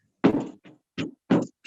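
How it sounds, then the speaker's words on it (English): Banging on a chained wooden door: three heavy, separate thuds over about a second and a half, loud and close, with short silent gaps between them. "More banging is heard coming from behind the chained wooden door."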